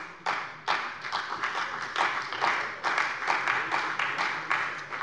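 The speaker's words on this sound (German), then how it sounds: "Applaus" Applause in a Hessian state parliament plenary session, a dense, fairly loud run of many hands clapping, swelling in repeated waves with no talk.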